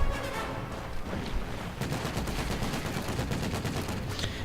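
MG42 machine gun fire in the video game Company of Heroes 2, rapid crackling bursts of gunfire running almost nonstop at moderate loudness, with a few heavier booms.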